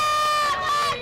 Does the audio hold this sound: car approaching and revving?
no